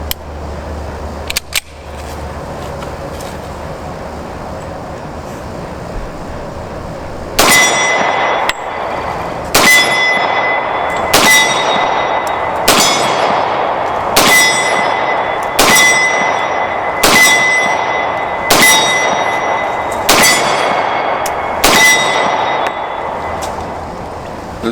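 A Beretta pistol fires at ringing steel targets on an outdoor shooting range: after some quiet handling, about a dozen sharp, loud shots come at a steady pace, each followed by a bright metallic clang.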